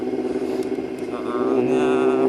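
Yamaha YZF R6 motorcycle with a Shadux exhaust, a close engine drone that rises in pitch and swells louder as it revs, with a faint voice underneath.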